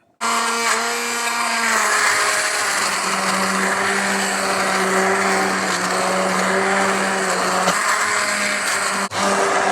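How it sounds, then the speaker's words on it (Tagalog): A blender motor whirs loudly and steadily for several seconds, its pitch shifting slightly as softened lentil soup churns, then cuts off near the end. "blender na natin siya"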